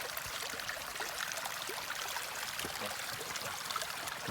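After rain, a stream flows with a steady, even trickle and gurgle that stays close and constant throughout, with no voices.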